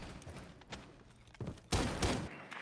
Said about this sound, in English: We are getting some gunfire exchange